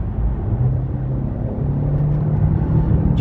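A Kia K8 hybrid car accelerating hard from inside the cabin, with a steady low engine drone and rumble that rises slightly in strength over a few seconds.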